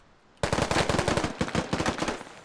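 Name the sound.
gunshots hitting a player in video game Squad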